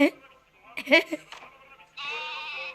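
A goat-like bleat in the video game Hide Online rings out after some chatter and laughter, a sustained nasal cry lasting under a second at the end.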